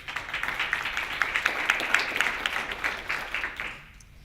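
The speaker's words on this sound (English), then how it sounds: "Everybody give a round of applause." An audience claps in a round of applause at a community meeting, a steady patter of many hands at moderate distance that fades out in the final half second.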